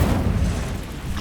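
Incendio fire spell cast in Hogwarts Legacy, a loud deep whooshing burst of flame that swells and fades within about a second.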